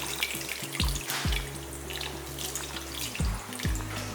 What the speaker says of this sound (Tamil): இதில் ஒரு அரை கப் அளவுக்கு நம்ம தண்ணி புளி தண்ணி எடுத்து வச்சுருக்கோம் இந்த தண்ணி ஊற்றிடலாம்